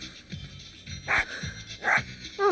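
A sausage dog, a dachshund, gives a few sharp barks over a busy background of studio noise and murmur, with bursts at intervals rather than a steady run.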